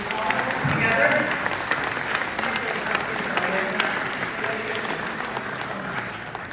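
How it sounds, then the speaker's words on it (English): An audience at a commemorative gathering in the U.S. Capitol gives sustained, dense applause for a leader, with some crowd voices and cheering mixed into the clapping, fading slightly toward the end. "can we all give a round of applause to Dr. John for his visionary leadership to bring all of us together"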